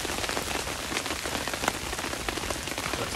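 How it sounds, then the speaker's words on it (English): Rain falling on a solo bushcraft wild camp in woodland, a dense steady patter of drops striking surfaces all around, close and continuous with no voices. "Oh man, here comes the weather, it's actually raining."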